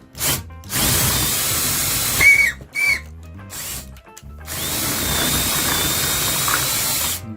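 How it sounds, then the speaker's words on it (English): A half-inch brad point bit drills through old wood at the screw holes of an old door hinge, loud power-drill whine in several bursts with short pauses between them, no talking. "We're going to start by drilling some half-inch holes right through the existing screw locations."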